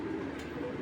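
A pigeon gives a brief, soft, low coo close by, with a quiet, muffled background and no talking.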